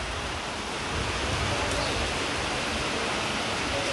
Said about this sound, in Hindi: बारिश बहुत तेज़ है, देखिए ये बहुत ज़बरदस्त हो रही है